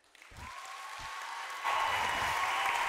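A remote audience applauds during a regional thesis-presentation final, with a few soft thumps and a faint tone at first, then clapping that grows and swells louder partway through.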